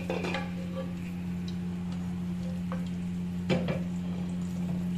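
Chicken pieces fry in hot oil in a pan for biryani, giving a continuous bubbling sizzle with occasional clinks and stirring scrapes, steady and close, with no talking.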